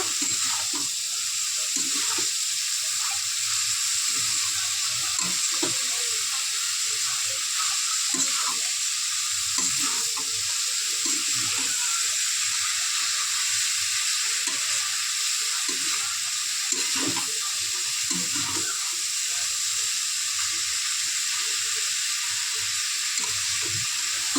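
Banana flower being sautéed with prawns in a pan gives a steady, close frying sizzle, broken by soft scrapes and knocks of stirring throughout, with no talking.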